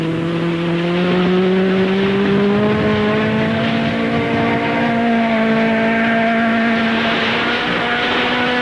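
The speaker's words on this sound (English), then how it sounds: "the Colt Lancer has its engine going full blast" A Colt Lancer rally car on a muddy Safari Rally road runs at full blast, its engine a loud, sustained roar with a slowly rising pitch and no pauses.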